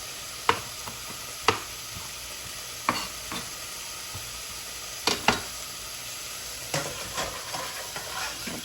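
Onions and garlic sizzle steadily in a hot pan, broken by several sharp scraping knocks as a spoon stirs them, close and fairly loud, with no talk.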